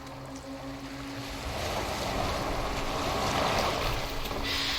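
Boat moving across open water in the video game Assassin's Creed Valhalla, a steady broadband wash of water and waves with low hum, growing slightly louder and continuous throughout.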